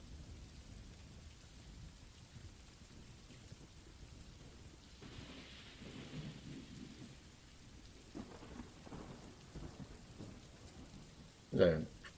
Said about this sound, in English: Is that a pretty big storm?